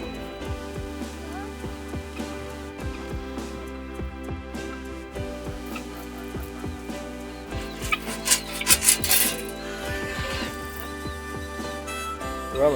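Chickens cluck softly during farm chores, with scattered scratching and rustling and a busier burst of activity partway through, moderately close.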